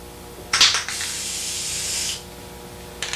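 A short hiss from a spray gun spraying a primer coat on car bodywork, then a steady spray lasting over a second before it cuts off, with another brief burst at the end.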